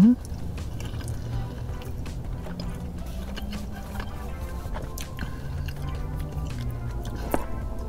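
Biting into and chewing a Taco Bell Double Steak Grilled Cheese Burrito with steak, rice and jalapeño, close wet chewing and squishing sounds with a few small crunches, fairly quiet and continuous.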